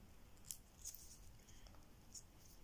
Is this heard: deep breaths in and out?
no